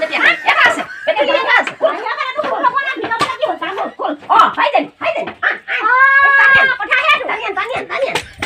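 A dog yips and whimpers in short, excited bursts close by, mixed in with continuous lively talking from several people.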